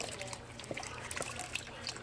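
A little water sloshes and swishes inside an emptied can being shaken while making cornbread chili, with soft trickling and small clinks close by, continuous and fairly quiet.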